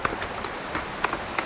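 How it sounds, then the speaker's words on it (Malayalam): Heavy rain falls during traditional net-cast fishing in a village, a dense, fairly faint hiss with scattered louder drops patting close by. "നല്ല മഴയാണ്, അതാണ് ഞാൻ ഒച്ച സംസാരിക്കുന്നത്"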